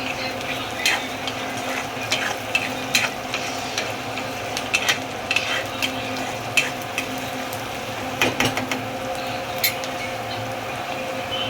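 Chopped onion and tomato fry in a pan for shapu bhaji, giving a steady close sizzle with regular clicks and scrapes of a spoon stirring, with no talk.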